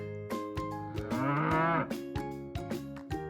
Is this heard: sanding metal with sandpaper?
no